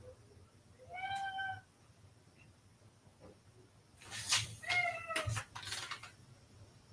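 Two drawn-out meows from a fed housecat wandering around and complaining, the first alone and the second louder and followed by a sharp higher cry, over a low steady background hum.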